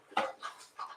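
A big dog drinking water or eating food close by, three short wet bursts of lapping or chewing spaced across a second, with quiet gaps between them.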